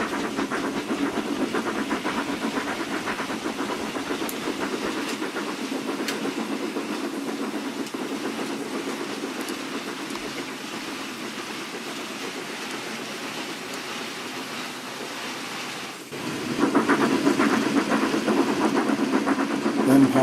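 A model railway steam locomotive hauling tank wagons runs through Samchester Lower station with a continuous rumbling, hissing chuff that fades slightly, then swells louder and busier near the end.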